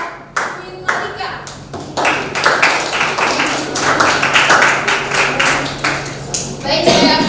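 A classroom of students claps for a student group's presentation, with sharp, quick hand claps close by over steady chatter and children's voices.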